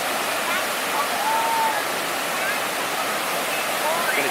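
A waterfall spilling over rocks, with fallen logs nearby, outdoors at a plein air painting spot; a loud, steady broadband rush of water that continues throughout.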